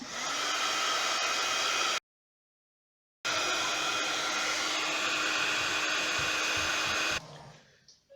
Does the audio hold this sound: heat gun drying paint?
yes